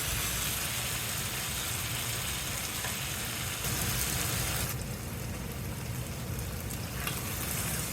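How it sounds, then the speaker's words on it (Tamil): Chicken chukka sautéing in spice masala until dry, a constant loud frying sizzle and hiss filling the whole stretch, with a slight shift in texture partway through and no speech. "மசாலா எல்லாம் சிக்கனோடு சேர்ந்து கொஞ்சம் ட்ரையாக வர்ற வரைக்கும் வதக்கணும்."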